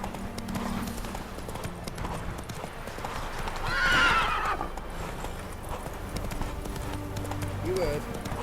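Roach, the horse in The Witcher 3, gallops with rhythmic hoof clip-clops under game ambience, and a loud whinny rises midway; voices speak around the action.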